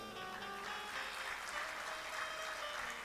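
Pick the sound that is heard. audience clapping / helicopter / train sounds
audience clapping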